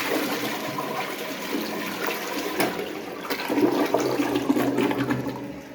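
A toilet flushes in a small apartment bathroom, its rushing water swelling steadily and loudly toward the end, with no voices over it.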